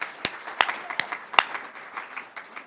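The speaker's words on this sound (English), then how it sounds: "Everybody, we start out by giving Sonia a huge round of applause." A community awards audience breaks into applause, a scattered patter of claps with a few sharp, close hand claps standing out over the softer crowd.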